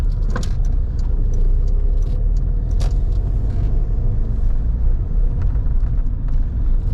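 A Rover Streetwise 2.0 turbo diesel car engine drones steadily at close range while driving, a constant low rumble with faint rattles and clinks over it, no talking.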